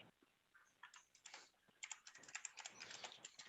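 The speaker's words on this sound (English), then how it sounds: "I'm typing your name in" Someone types on a computer keyboard in quick, irregular clusters of crisp clicking keystrokes that grow denser and louder toward the end, heard nearby with no talking.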